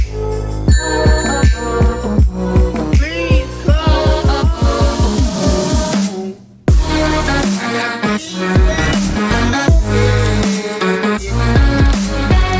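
Telephone ringtone sound effect opening a phone-in segment of a Dallas Cowboys sports talk show: bright, repeated ringing tones in a fast, steady pattern, loud and alone with no talk.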